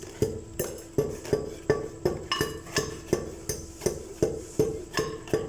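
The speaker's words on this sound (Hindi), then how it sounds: "इस तरीके से हम कूटेंगे तो जो गुठलियाँ हैं वो बाहर नहीं आएंगी" Ajwa date pits are pounded in a mortar with a pestle: a steady run of about a dozen hard, ringing knocks, roughly two per second, close and distinct with no voices.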